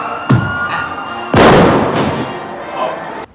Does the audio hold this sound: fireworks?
yes